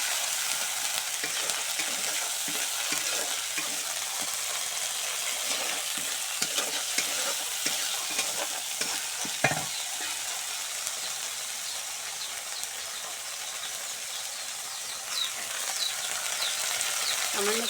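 Singi fish fries in a pan with a little salt, giving a loud, dense, continuous sizzle close by, with the clatter of stirring scattered through it.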